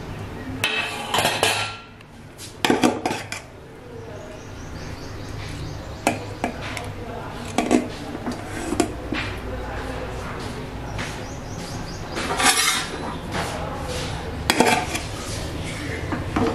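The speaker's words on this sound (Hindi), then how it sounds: "तो वो यहाँ से मुझे प्लेट उठाना है" Plates and dishes clinking and clattering as they are picked up in a home kitchen, several sharp close ceramic and metal knocks spread over a quiet room hum, with someone talking in between.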